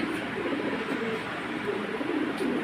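Lahori pigeons at a pigeon farm give a steady stream of low, soft cooing, overlapping murmurs that continue close by throughout.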